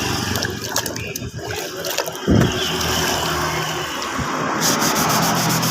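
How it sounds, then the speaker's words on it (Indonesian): Hand sanding a motorcycle body panel before painting, a steady loud scraping rub with irregular strokes and a few sharper scuffs, heard alone without talk. "Nah, kita gosok saja seperti ini sampai halus."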